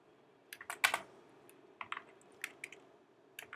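Java code being typed on a computer keyboard, with irregular bursts of close key clicks and short pauses between clusters, no talking.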